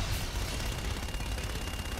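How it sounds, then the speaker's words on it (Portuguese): Dense, continuous battle noise from the video game Call of Duty: Infinite Warfare, with rumbling explosions and rapid gunfire blended into a steady wash, moderately loud and with no speech. "Bom, bastante explosão."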